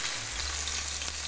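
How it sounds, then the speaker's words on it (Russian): Young cabbage fries in bacon fat in a pan, giving a close, steady, bright sizzle with a low hum underneath and no talking over it. "вот так вот обжариваем капусту"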